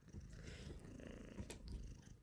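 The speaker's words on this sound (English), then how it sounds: "can you hear the purring of a kitty in the background? She's quite loud." A cat purrs continuously in a low rhythmic rumble, close but quiet, with no voices over it.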